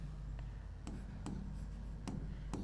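Pen or chalk writing out a theorem statement, heard as faint, quick scratches and taps spaced irregularly over a steady low background hum, with no speech.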